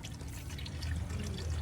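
Engine oil draining from a car's oil pan into a catch container, a steady soft pouring trickle with faint drips over low background rumble.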